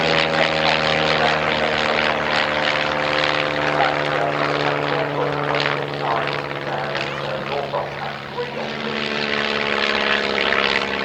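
A vintage propeller aeroplane flies at the Shuttleworth evening air display, its engine droning loud and steady throughout with a strong, even hum and slight swells.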